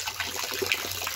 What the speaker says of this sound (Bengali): ছাদে পাইপ ফাটিয়ে দিয়ে গেছে আমাদের হনুমানে। এই যে জল পড়ছে এখানে